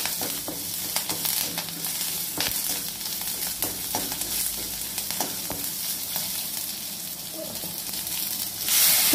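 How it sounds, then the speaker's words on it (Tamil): Onions sauté with asafoetida in a pan, sizzling and crackling steadily close up, with occasional stirring scrapes and a louder sizzle at the end. "போட்டுட்டு நல்லா வெங்காயம் வதங்கட்டும்."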